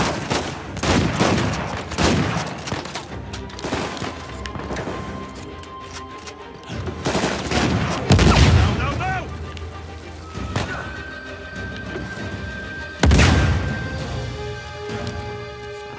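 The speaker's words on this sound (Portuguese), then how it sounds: "Altas explosões, cara." Rapid bursts of gunfire and explosions in Uncharted 4 crackle and boom in waves, with electronic tones ringing out between the blasts.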